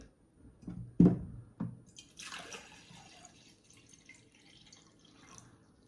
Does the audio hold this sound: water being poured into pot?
yes